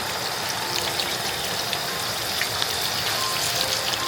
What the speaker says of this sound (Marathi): पाऊस पडतोय ना